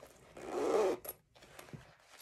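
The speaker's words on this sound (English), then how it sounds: "I moved the zipper pull out of the way." A zipper pull slid along the zipper of a sewn crossbody window pouch, one close raspy zip lasting about half a second, followed by small clicks and handling noises.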